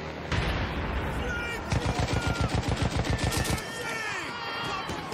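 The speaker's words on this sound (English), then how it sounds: "Okay, we're now on the machine gun turret." A machine gun turret in Battlefield 1 fires a rapid, evenly spaced burst of loud, heavy shots lasting about two seconds, set against a dense background of battle noise.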